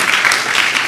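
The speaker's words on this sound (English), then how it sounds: "it's very easy to applaud." A church congregation at a Baptist service applauds, a brief burst of dense, steady clapping from a crowd.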